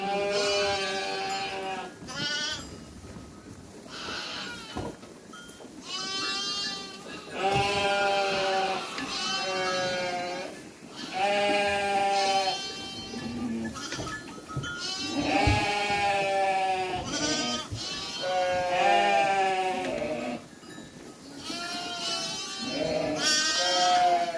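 Lambs and sheep bleating repeatedly on a Turkish farm, including a newborn one-eyed lamb, with overlapping quavering cries near and loud over nearly half a minute.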